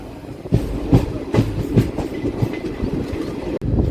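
Secunderabad to Repalle express (17645) running near Ghatkesar station, heard from onboard: steady rumbling rail noise with rhythmic clickety-clack wheel beats over the joints, loud and continuous with no talk.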